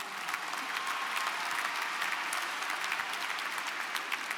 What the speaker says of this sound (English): So let's give all of them another round of applause.